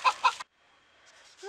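Village hens cluck twice close by in short, loud bursts from a nest, followed by a quiet pause and faint rustling, with a hint of a voice at the end.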